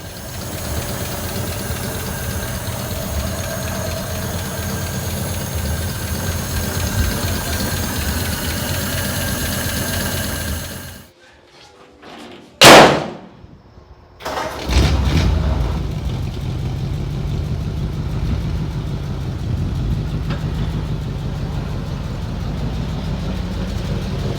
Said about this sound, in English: Let's let it warm up a little bit and then maybe we'll go around the block.